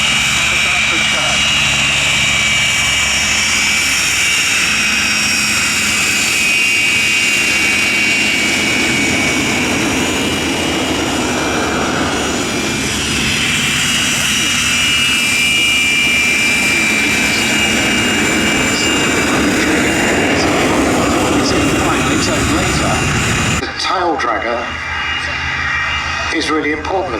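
Aircraft at the Duxford air show, including a Slingsby T67N 260 Firefly and an all-electric Velis Electro, drone steadily overhead with an engine roar, loud and continuous while a commentator talks over the public address.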